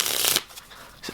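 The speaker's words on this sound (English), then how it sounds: "you can see just cutting and shuffling as well" Light Blue Crown playing cards being cut and shuffled, a dense riffling burst up close that stops abruptly, followed by a couple of faint card taps.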